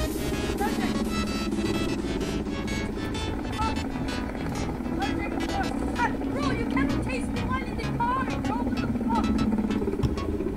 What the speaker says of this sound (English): Land it on the helicopter pad.